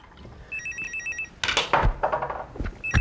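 A telephone bell rings in short repeated trills, loud and close, followed by thumps and handling noises as someone moves to answer.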